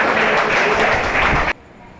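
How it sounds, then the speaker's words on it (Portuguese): Dense applause from a church congregation during a service fills the space, steady and loud, then cuts off abruptly into near silence. "Aplauda essa palavra."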